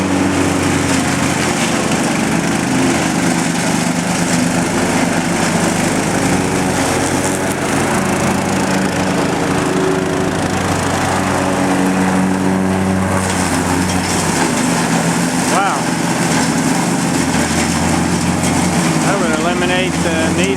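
A lawn mower fitted with an all-weather mulching blade runs steadily throughout, a loud continuous engine drone with a crunching, shredding texture as it chews through yard debris.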